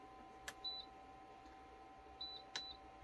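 Heat press control panel giving short electronic beeps as the temperature is set, a few clipped tones alone over a quiet room hum.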